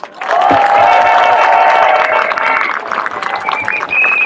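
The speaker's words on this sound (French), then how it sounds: "je vous prie de faire un chaleureux et glorieux applaudissement à Patrice Pénet" A crowd applauds and cheers warmly for Patrice Pénet, loud and sustained clapping mixed with shouts and whistling voices throughout.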